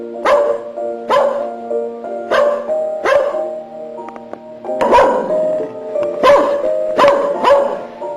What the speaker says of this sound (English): Oh, that's one of our dogs.